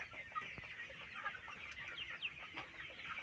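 Sonali hybrid rooster on a small poultry farm, soft scattered clucks mixed with other faint bird noises, quiet and somewhat distant with no speech.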